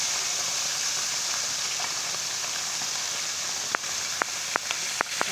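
Grilled semar fish refrying in hot oil gives a steady, hissing sizzle, with several sharp crackles and pops toward the end, close and moderately loud.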